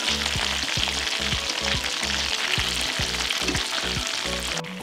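Breaded chicken drumsticks frying in a pan give off a dense, loud crackling sizzle, with a rhythmic series of low thumps running through it and no talk.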